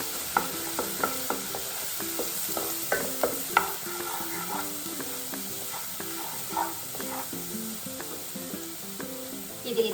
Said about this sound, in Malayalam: ഇത് കരിയാതെ പച്ചമണം പോകുന്ന വരെ ഒന്ന് ഇളക്കി കൊടുക്കുക